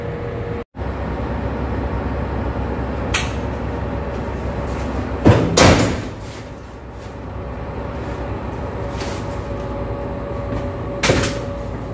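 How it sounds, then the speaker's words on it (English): Watertight door and fire screen door closing aboard a ship, a heavy metallic clunk and rattling slam mid-way with a later softer thud, over a steady engine-room hum with no talking. "I will demonstrate to you the closing of watertight door and the fire screen door"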